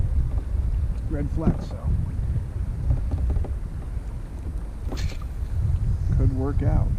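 Steady wind rushes across a lake while fishing from a boat, a broad constant roar filling the background under close talk throughout.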